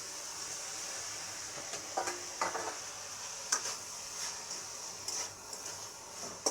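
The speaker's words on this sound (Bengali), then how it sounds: "গাজরটা দিয়ে দেবো, আর ক্যাপসিকামটাও দিয়ে দিচ্ছি।" Carrot and capsicum fry in a pan for vegetable chow mein, with a constant soft sizzle and scattered scraping stir strokes and light utensil taps against the pan.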